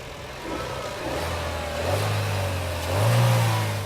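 The turbocharged Ecotec engine of a 2011 Chevrolet Cruze LT pulls hard under acceleration, a loud, close, rising drone that climbs in steps with no one talking.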